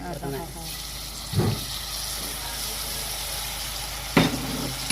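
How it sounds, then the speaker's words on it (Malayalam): Tamarind water poured into a pan of sautéed tomatoes brings a soft sizzle and a couple of brief splashing bursts, faint and steady beneath a quiet background. "തക്കാളി വഴറ്റി നമുക്ക് ഇനിയും പുളിവെള്ളം ചേർക്കാം"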